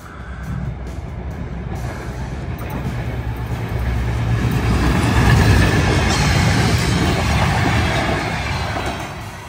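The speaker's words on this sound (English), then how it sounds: "Comes a train." A train rolls into a railway station in Riga, Latvia, a loud low rumble of wheels and engine that swells steadily as it draws near, with a faint high tone running above.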